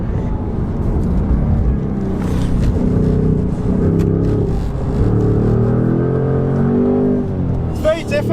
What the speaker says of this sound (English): It drifts really well, this car.